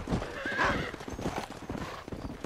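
A horse in the Red Dead Redemption video game on Xbox One gallops with quick clip-clopping hooves and lets out a clear whinny, close and fairly loud over about two and a half seconds.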